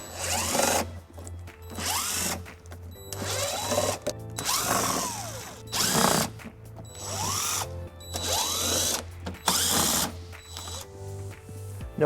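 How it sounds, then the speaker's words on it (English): Power drill fitted with an 8mm socket removing underbody panel screws on a 2019 BMW 530i, giving repeated close bursts of whirring with short pauses between them, and no speech. "There's 8 screws holding it in, and we're going to be using an 8mm socket to remove those."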